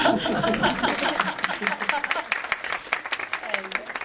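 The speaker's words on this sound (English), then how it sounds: "If we can have some claps." Audience clapping fills an incubation panel event with dense, steady applause over its whole length, some chuckling and voices mixed in beneath the claps.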